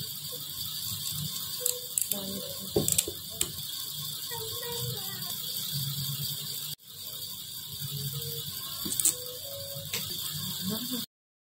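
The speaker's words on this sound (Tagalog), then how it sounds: "Higpitan nating mabuti para hindi lumuwag." A part is tightened during the repair of a Dowell stand fan, with close, sharp ratchet-like clicks and small mechanical knocks over a steady background hum, briefly cut off midway.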